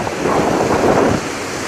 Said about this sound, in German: Boah, der Wind ist übel geworden. Wie an der Küste.